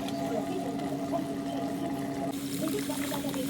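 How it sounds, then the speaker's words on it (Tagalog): Water is poured into a cooking pot for kimchi jjigae, a steady, faint rushing pour that carries on for a few seconds against a busy background. "So, lagyan na natin ng tubig."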